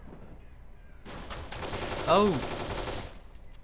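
A dense burst of rapid gunfire in the Kane and Lynch 2 video game lasts about two seconds, loud and close, with a short exclaiming voice cutting in over the shots.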